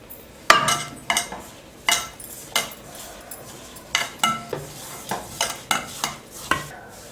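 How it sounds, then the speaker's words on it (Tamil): Masala being stirred together with cornflour in a bowl for fish fry: a run of about a dozen close, fairly loud scraping and clinking strokes at a steady rhythm, with no talking. "மசால் கலந்து வச்சாச்சு"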